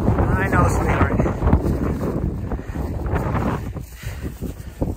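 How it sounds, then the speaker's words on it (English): Strong wind buffets the microphone with heavy, rumbling gusts that rise and fall, close and loud, with a voice faintly underneath. "It's really windy today."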